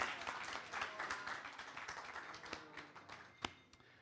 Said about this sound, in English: Ladies and gentlemen, give her a huge round of applause.